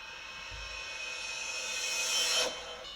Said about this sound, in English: a reverse cymbal. I've just actually reversed that cymbal here,